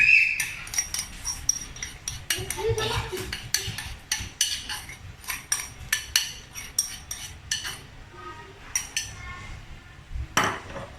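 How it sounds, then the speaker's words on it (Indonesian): Cocoa powder stirred into agar-agar jelly in a pan for a zebra bread pudding, a steady run of clinking scrapes and taps of utensil against pot, close and fairly loud, with no talking. "Kita aduk ya guys biar rata"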